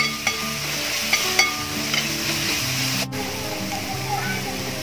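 Chopped onions and five green chillies sauté for chicken biryani with a steady, close sizzle, sharp stirring clinks, and faint tonal sound underneath.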